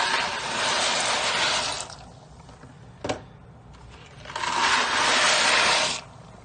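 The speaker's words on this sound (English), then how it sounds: "so we're going to pour the noodles inside." Dry noodles poured into a pot of boiling water for homemade mac and cheese, then stirred: two loud bursts of broad hissing, rushing water noise separated by a quieter stretch with a single sharp knock from the pot.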